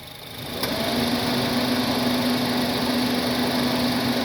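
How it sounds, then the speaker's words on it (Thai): A Honda City's air conditioning blower fan switches on and runs as a steady, even whir with a faint hum, rising in the first half second and then holding a constant level with no talk. "เปิดแอร์ครับ"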